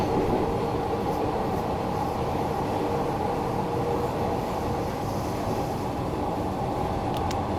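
A Glasgow Subway 1980 Stock train runs in Train Simulator Classic, giving a steady, loud rumble with rail noise and a few faint clicks, and no speech.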